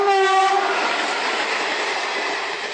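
A train horn sounds briefly at the start, then the loud, steady rumble of a train passing on a railway track carries on to the end, near and with no voices.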